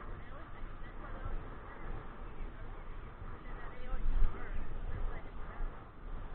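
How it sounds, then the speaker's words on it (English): Geese or ducks honking and quacking outdoors by the water, a busy muddle of bird calls at moderate distance, with people talking faintly underneath. "there's a lot of birds out here today"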